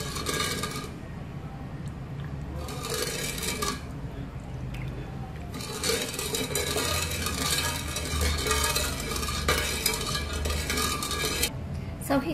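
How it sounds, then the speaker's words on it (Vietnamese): A spoon stirs sugar into Thai red tea in a pot, giving continuous scraping and clinking against the metal in uneven bursts, close and fairly loud. "Và mình khuấy đều cho đường tan ra."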